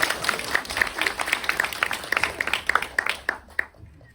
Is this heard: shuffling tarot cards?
no